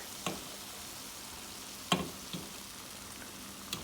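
Fish curry bubbling gently in a pot as trout cooks, with a soft steady simmer and a few sharp knocks and scrapes of a spoon or the pot being shaken, no talking.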